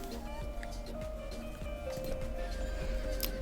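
A horse in the video game Star Stable Online gives a whinny amid steady clip-clop hoofbeats and soft ambient game background, moderately faint.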